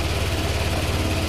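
A car engine idles steadily at a high idle during an emissions spring calibration, a constant low rumble close by with no voices.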